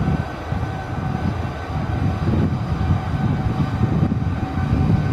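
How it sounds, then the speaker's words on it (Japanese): A heavy freight train departing JR Inazawa depot rumbles steadily in the low range, a continuous rolling roar without pauses, moderately loud and fairly close, with no voices. "前方貨物列車出発っていう感じですね。"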